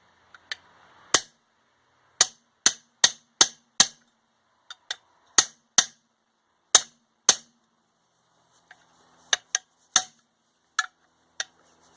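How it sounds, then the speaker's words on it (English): Sharp metallic taps of a hammer, struck singly and in quick runs with pauses between, crisp and close in a quiet space. "Right-handed hammer again."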